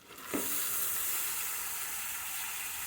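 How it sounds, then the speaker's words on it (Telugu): Mutton hitting a hot curry pan with ginger-garlic paste and onions, a sudden splash followed by a loud, steady hiss of sizzling that carries on evenly and close up, with no talking. "ఇప్పుడు నేను మటన్ వేసేస్తున్నాను."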